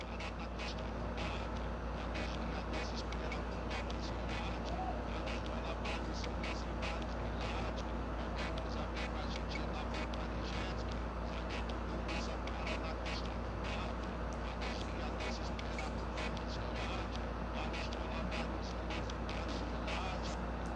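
A car sound system plays with the trunk open in a lowered Volkswagen Golf, giving a constant heavy low bass drone with music layered above it, loud and unbroken throughout.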